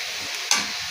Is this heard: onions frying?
yes